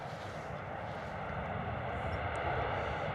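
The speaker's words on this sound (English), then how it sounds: "I just had a Ryanair arrive here at Stansted." A Ryanair jet arriving at London Stansted Airport from Dublin gives off a steady, fairly loud engine roar that holds evenly throughout, with no voices over it.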